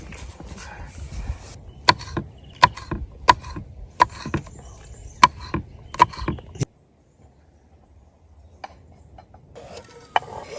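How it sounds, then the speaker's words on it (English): A knife slicing an onion into thin pieces at a camp cooking setup, sharp distinct chops landing in an irregular run of about ten close strokes against a board, then a near-silent pause and one last faint tap. "So Adam's gonna start cutting up the onion now."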